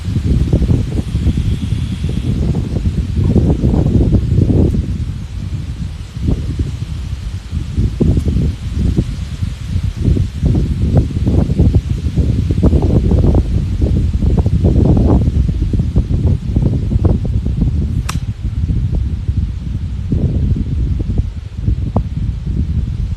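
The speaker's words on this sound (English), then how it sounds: "Nah, wind's blowing right now, right to left." Gusty wind buffets the microphone on an open golf course, a continuous low roar that swells and eases in irregular surges, with one brief sharp tick partway through.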